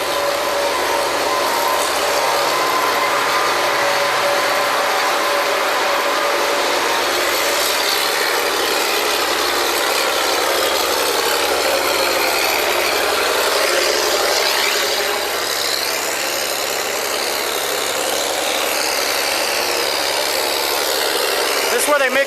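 Steady mechanical roar of drilling rig mud pumps at a well site, a loud continuous drone with grinding texture running unbroken throughout.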